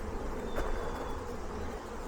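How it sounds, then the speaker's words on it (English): A steady, faint buzz of many honeybees on a hive frame hums continuously in the background, with a brief louder burst partway through as one passes close. "Lots of bees on there."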